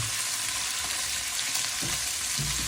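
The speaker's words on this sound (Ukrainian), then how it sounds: "обжарили нашу курочку майже до золотистої скоринки" Chicken pieces with garlic frying in a pan, a close, steady sizzle with a few louder bursts of crackling as the pieces are stirred.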